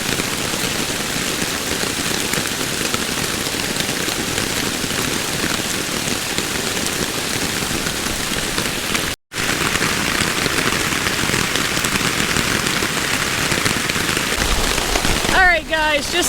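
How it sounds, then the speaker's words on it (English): Rain patters steadily on tarps at a backpacking campsite along Seneca Creek, a dense continuous wash of drops that carries on through the whole stretch, with a brief break partway and a voice faintly present near the end. "just like the weather promised, we are getting rain"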